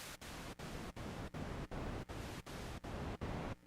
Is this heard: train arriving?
no